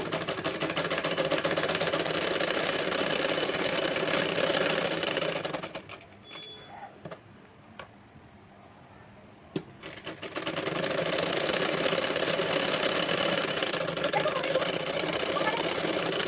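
A sewing machine top-stitches a dress made from an old saree in two long, loud runs of rapid rhythmic clatter, broken by a few seconds of quieter pause with faint handling noises before the motor starts up again.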